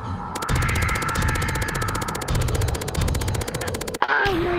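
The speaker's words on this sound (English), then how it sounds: "Oh god, he has a gun, he's opening fire, watch out!" An opponent in VRChat opens fire with a gun: a rapid, evenly spaced automatic burst hammers on loud for about four seconds, then cuts off abruptly with a sharp final crack.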